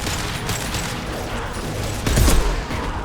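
Impact shot gunfire in Mass Effect 2: steady sci-fi weapon fire over a constant battle din, with a heavier, louder burst around the middle-to-late part of the clip.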